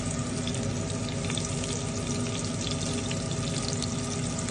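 Cumin, mustard seeds and green chillies fry in hot oil with a loud, steady sizzle and crackle that lasts the whole time, with no talking.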